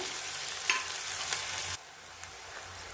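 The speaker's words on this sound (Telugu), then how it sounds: "ఉల్లిగడ్డలు బాగా మగ్గించే వరకు వేయించుకుందాం" Sliced onions fry in a pan with a steady hiss, broken by a few stirring scrapes, close and clear; the sizzle drops noticeably quieter partway through, and no one talks.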